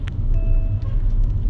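Steady low road rumble heard from inside a moving car on the way to a market in light rain, with a brief faint tone and small clicks over the constant drone.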